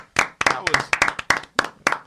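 A small group claps in a radio studio, about eight sharp, evenly spaced claps, loud and close, with no voices over them.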